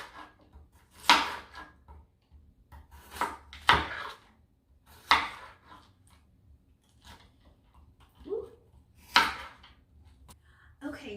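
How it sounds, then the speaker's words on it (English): A knife chopping potatoes on a cutting board in a home kitchen: about seven sharp, separate knocks spaced irregularly with quiet gaps between, close and fairly soft. "I've got my potatoes all chopped up"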